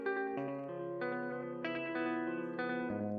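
A guitar rings through a tape echo emulation app on iOS, its notes repeating with a slight pitch warble under a soft wash of delay.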